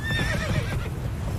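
A horse whinnies in The Witcher 3, a clear descending neigh with a faint clip-clop of hooves underneath, close and fairly loud, lasting about a second before fading into the game's background ambience.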